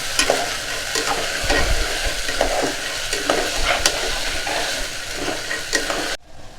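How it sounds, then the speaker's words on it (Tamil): Green peas and chopped onion fry in oil for a peas kuruma, a steady close sizzle broken by repeated spatula scrapes and clicks against the pan before cutting off abruptly. "இந்த பட்டாணியோடு சேர்ந்து அந்த வெங்காயமும் வதங்கிடும்."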